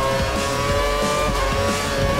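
F1 2013 racing game car accelerating hard, a loud, steady high-pitched engine whine with engine roar and tire noise throughout, no voices.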